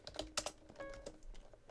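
Quick bursts of keystrokes on a computer keyboard during a Minecraft game, close and fairly quiet, clicking in an uneven rapid rhythm.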